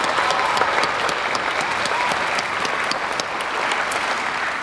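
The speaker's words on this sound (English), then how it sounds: "I think we need to clap for that." A high school graduation audience fills the hall with sustained, dense applause, an even wash of many hands clapping at once without a break.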